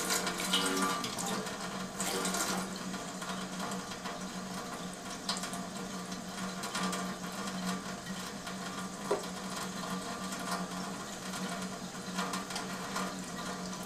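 Water streams steadily from an Enagic SD501 Kangen water machine making alkaline water, a continuous splashing flow with a faint mechanical hum beneath it.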